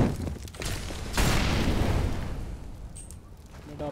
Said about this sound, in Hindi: deploying flashbang